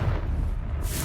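A short burst from the Confringo fire spell in Hogwarts Legacy, a dense rumbling blast that stays loud for about a second and ends in a bright crackle.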